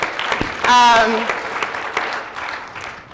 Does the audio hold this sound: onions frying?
no